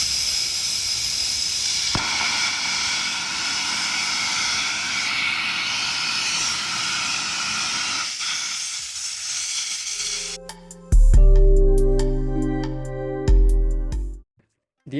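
A small liquid-fuelled rocket engine burning ethanol fires on a steel test stand with a loud, steady roaring hiss for about ten seconds, then cuts off into sharp tonal ringing and a final abrupt stop.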